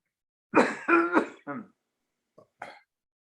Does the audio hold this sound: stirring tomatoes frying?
no